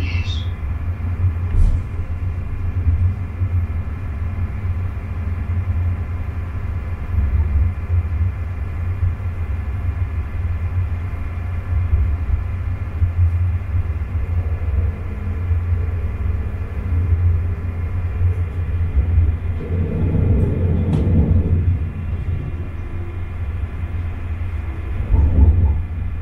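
A Koleje Śląskie train on the Katowice–Zawiercie line rumbles steadily along the tracks as it nears Siewierz station, a deep continuous interior drone that swells with louder rattling near the end.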